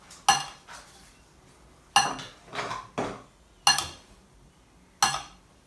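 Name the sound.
stirring pepper, salt and chili powder mix in a dish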